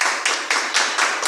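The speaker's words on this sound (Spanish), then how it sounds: "A todos les pedimos un fuerte aplauso para despedir a nuestro brillante ponente." A seminar audience gives a brief round of applause to a departing presenter at a workplace safety and health talk, heard as a dense wash of clapping with small rhythmic swells every quarter second.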